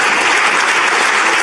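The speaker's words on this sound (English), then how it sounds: "Can I have an applause for Shirin Moussa?" A live audience at a press freedom lecture festival applauds steadily for introduced guests, a dense, even clapping that fills the whole moment with no voices over it.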